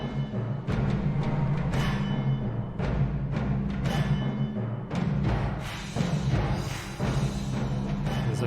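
Several layered music tracks play together from the Syrinscape sound app, a dense continuous blend with repeated percussive hits roughly every second over sustained low tones, loud and steady without speech.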